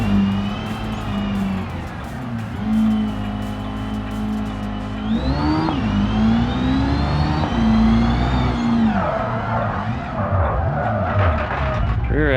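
A car in BeamNG skids as its rear end slides out, tires squealing in a sustained, wavering howl over a steady engine drone, loud and close throughout.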